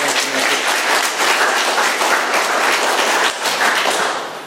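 A roomful of people at an Alcoholics Anonymous speaker meeting applauds a speaker, loud and sustained clapping with a few thumps mixed in, steady and close for the whole stretch.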